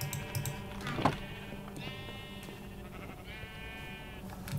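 Sheep bleating in Minecraft: two drawn-out, wavering bleats, one early and one later, over a low game hum with a brief thump between them, no talking.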